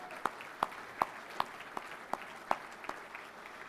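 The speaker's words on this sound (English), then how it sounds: "Round of applause, please, for the Spirit of Carlton." Audience applause at a football club premiership reunion luncheon, a fairly quiet scattering of distinct claps at a steady, unhurried rhythm over a soft background murmur.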